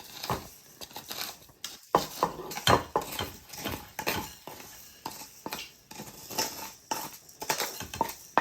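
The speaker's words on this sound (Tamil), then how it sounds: "வறுத்த ரைஸ் இதில் எடுத்து போடுறேன்." Fried rice scooped from a pan into a dish, with irregular scraping and clinking of a spoon against cookware, close and moderately quiet.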